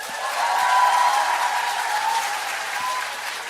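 A studio audience on a Korean TV talk show applauds during a vote, a dense wash of clapping that swells and holds steady for several seconds.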